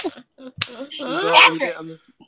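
A man imitates a dog barking with a few short, sharp vocal yips and woofs, close and loud, amid casual talk.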